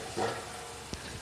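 Boiled rice with fennel, cardamom and cloves sizzling in vanaspati ghee, a soft steady sizzle with a brief stir or clink near the end.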